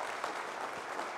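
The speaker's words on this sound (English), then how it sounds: "Give her a round of applause." Brief, faint applause from an audience at a county candidate forum for a speaker who has just finished, a soft, even patter of clapping.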